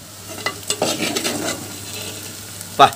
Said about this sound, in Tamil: வெங்காயம் நல்லா கோல்டு கலரில் வர அளவுக்கு நம்ம வந்து நல்லா வதக்கி எடுத்துடலாம்